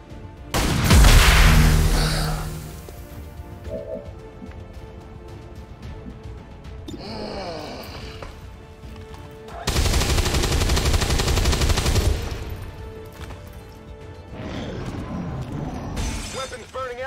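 Video game weapons fire in bursts: a loud crashing blast at the start, then rapid automatic gunfire and explosive bursts returning in waves, with quieter gaps and game sounds between them.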